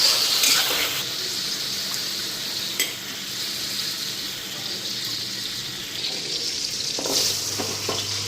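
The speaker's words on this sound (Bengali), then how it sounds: "তো ওইদিকে পনিরটাও ভেজে নিতেছি হালকা" Paneer lightly frying in a pan, a steady close sizzle with faint clinks and stirring scrapes throughout, no talking.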